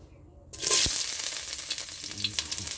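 Ginger dropped into hot cooking oil for Filipino pork adobo, bursting into a loud sizzle that settles into a steady crackling fry with faint stirring scrapes near the end.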